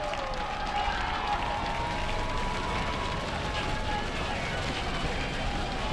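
Crowd in Pullman cheering a goal at a women's college soccer match, Eastern Washington at Washington State, a steady distant roar of voices beneath a commentator.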